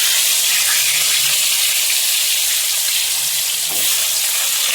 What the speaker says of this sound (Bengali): আলুটা ভেজে নিই